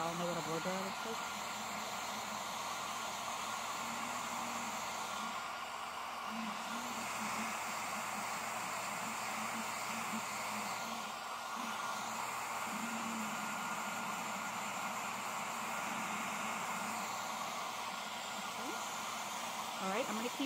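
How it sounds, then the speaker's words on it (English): A hair dryer blows steadily at close range, a constant whooshing whine that holds for the whole stretch. "I don't want you to have to hear all this blow drying"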